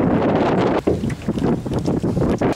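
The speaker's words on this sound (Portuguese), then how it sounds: "Muito vento." Strong wind by the water at Barra Bonita buffets the microphone in loud, rumbling gusts that rise and fall unevenly, with no talk.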